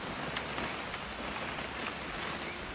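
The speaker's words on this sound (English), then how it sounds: "It's gonna rain the whole weekend," Rain falls steadily in the video game What Remains of Edith Finch, a soft, dense hiss of drops with no breaks that stays faint and even throughout.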